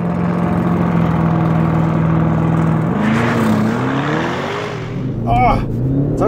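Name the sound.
Audi RS7 accelerating hard at drag race start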